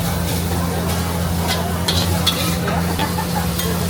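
Pad thai with egg sizzling and frying on a street stall griddle in Pattaya, Thailand, a steady loud hiss with scattered scraping clinks over the top.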